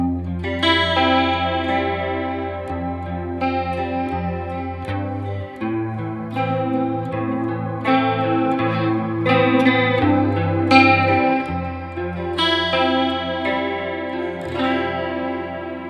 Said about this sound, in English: the really watery modulation sound, that I believe is a chorus